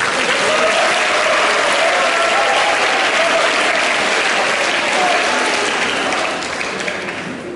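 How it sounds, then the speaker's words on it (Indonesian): Sustained, dense applause from a large school audience at a seminary junior high, honoring the MC during a governor's visit; steady and loud throughout, fading slightly at the end. "Tepuk tangan buat MC dulu."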